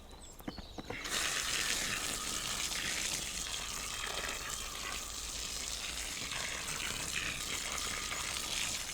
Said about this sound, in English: I will water it.